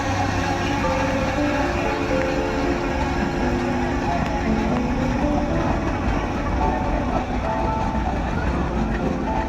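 A safari train in Sanjay Gandhi National Park during heavy rain gives a steady, loud rolling rumble with a continuous mechanical drone that persists unbroken throughout.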